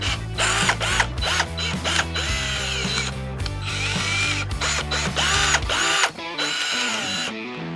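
A Haichika drill drives a 3.5 inch deck screw at speed 2, producing a loud, steady whirring drive with grinding, ratcheting pulses and changing pitch that run for several seconds before trailing off.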